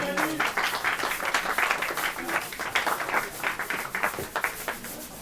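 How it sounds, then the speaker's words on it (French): Audience applause for Manu after he cuts onions during a live Creole cooking show about rougail saucisse, dense steady clapping that continues for several seconds with some voices mixed in. "On t'applaudit"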